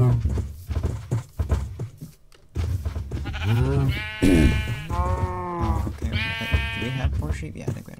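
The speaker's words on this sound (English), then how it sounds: "I think we have more sheep" Sheep in a survival video game bleat several times, the calls rising and wavering with clear harmonics, close and fairly loud over a background of game noise and footsteps.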